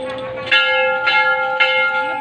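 A temple bell at Tilinga Mandir in Tinsukia rings out loud and close, struck several times in a steady rhythm with long, humming overtones ringing on between strikes.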